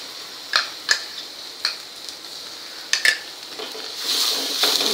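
A spoon scrapes and clinks against a pan as curry leaves and ground raw masala paste are stirred in over low heat, with a few sharp taps and then a soft sizzle near the end.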